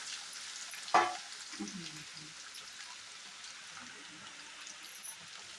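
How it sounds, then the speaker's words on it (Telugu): Tomato pieces frying quietly in oil in a pan: a faint, steady hiss with a single clunk near the start and a few soft bumps, no talking. "ముక్కలుగా కట్ చేసుకున్న వీటిని ఈ ఆయిల్లో వేసుకుందాం. వేసుకొని చక్కగా మగ్గించుకుందామండి వీటిని"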